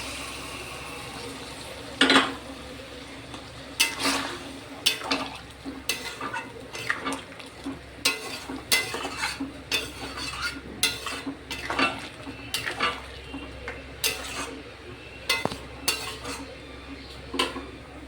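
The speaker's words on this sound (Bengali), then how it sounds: "এই গরম জলটা এবার আমি দিয়ে দেবো" A spoon scrapes and clanks repeatedly against a pot of chicken curry as hot water is stirred in, giving irregular metallic knocks over a soft simmering hiss.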